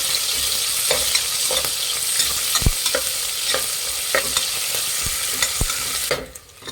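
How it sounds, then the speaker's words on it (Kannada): Sliced onions frying and being stirred in a pan for cauliflower biryani, a steady close sizzle with regular scraping and tapping strokes of the spoon, ending as the stirring stops. "ಈರುಳ್ಳಿ ಚೆನ್ನಾಗಿ ಫ್ರೈ ಆಗಿದೆ"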